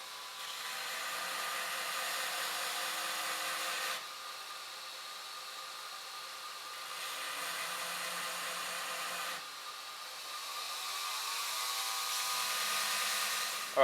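A grinder works the shoulders and tang of a stainless san mai hunting knife against a file guide, giving a steady whirring hiss in several long passes with short breaks between them.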